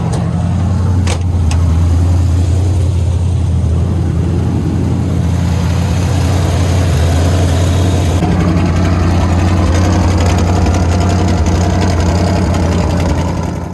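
An old truck engine idling steadily, with a loud, continuous low rumble close by that holds an even pitch throughout, without any talk.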